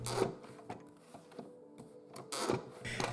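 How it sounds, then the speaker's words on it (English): A corner trimmer cuts the corners of handmade memo pads, one pad at a time, giving a few sharp mechanical clunks and snips spaced irregularly, the last burst longer and louder, with quiet gaps between. "we come to the point where I trim all of the corners"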